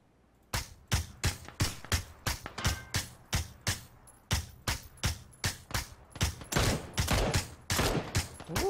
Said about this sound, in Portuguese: dei tiro pra caralho no cara